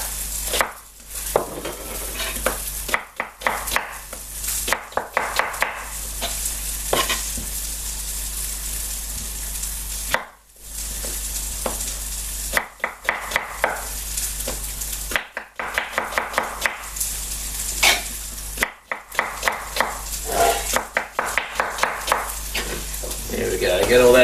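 Rough-chopped onion sizzling loudly in a pot for slow-cooked lamb shanks, a steady close crackle and hiss with scraping stirs and clanks, broken by a few brief pauses.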